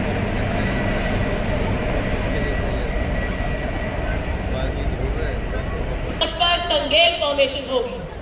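Military aircraft fly past in a Tangail formation during the Republic Day parade, a broad continuous engine roar filling the air, with a commentator speaking over the later part.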